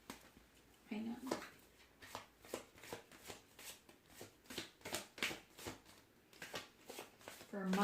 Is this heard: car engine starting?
no